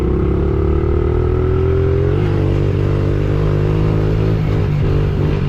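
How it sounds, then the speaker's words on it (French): A small three-speed Honda XR70 motorcycle engine runs close and loud during a wheelie on a dirt track, its revs holding high, then dipping and settling into a steady drone. "Petite moto, c'est comme un 110 CRF."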